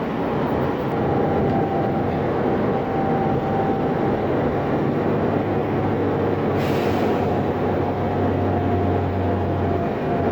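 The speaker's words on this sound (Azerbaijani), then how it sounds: "Düşdük indi geri metroya." A metro train runs with a loud, steady, continuous rumble and rolling roar throughout, with no one speaking.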